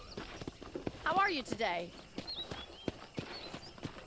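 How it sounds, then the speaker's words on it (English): Horse hooves clip-clop at a walking pace in the Red Dead Redemption video game, a series of steady, fairly close hoofbeats heard under a person speaking. "I picked out a fine horse for you."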